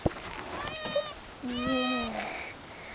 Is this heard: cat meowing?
yes